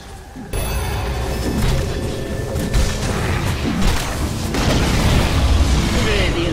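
In a Dota 2 match, the Radiant middle tower is attacked and destroyed amid loud, continuous booming explosions and crashing battle effects, with a voice speaking over the din.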